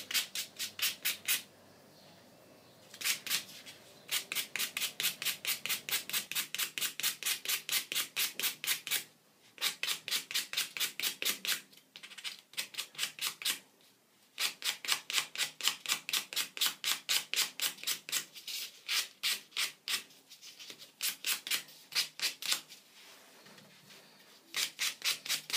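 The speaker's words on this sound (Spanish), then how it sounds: "Ahora pulo mis uñas con un grano" Quick back-and-forth strokes of a nail buffer polishing toenails come in tight rhythmic bursts of rasping rubs, close and crisp, separated by short silent pauses, with no talking.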